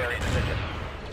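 Starship weapons fire in the space strategy game Star Wars Empire at War, a dense rumbling barrage of overlapping blasts and booms filling the short moment, loud and continuous.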